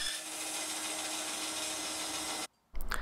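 Bandsaw ripping a taper along a wooden table leg, a continuous loud whirring cut that stops abruptly and is followed by a short burst of handling noise, close by.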